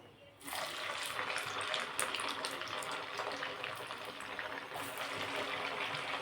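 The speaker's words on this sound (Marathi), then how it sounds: "हे आपण बाकीचे सुद्धा असे थोडेसे प्रेस करून तळून घेऊ" Fandi bhaji vadas, fritters of wild field greens pressed flat, frying in hot oil: a steady, close, continuous sizzling hiss that starts abruptly and holds evenly throughout.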